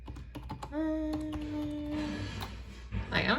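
Typing on a full-sized ergonomic wireless keyboard, soft quick key clicks beneath a steady tonal hum, with a brief rustle near the end.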